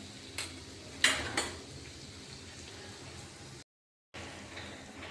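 Mixed vegetables tipped into a pan of hot oil seasoned with mustard seed, turmeric and onion-garlic masala for a dry sabzi, giving a soft steady sizzle with a few clattering clinks of a utensil, with a brief dropout near the end.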